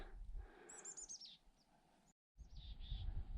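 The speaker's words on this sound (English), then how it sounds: "That's a mountain chickadee." A mountain chickadee gives a quick series of high, clear chirping notes up close on a mountain hike, followed by a few more calls after a brief pause, over faint outdoor background.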